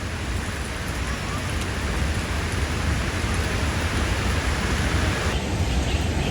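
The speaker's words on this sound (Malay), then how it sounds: "Hujan masih lagi berlangsung." Steady, heavy rain pours down as a dense, constant hiss, with no gaps or voices over it.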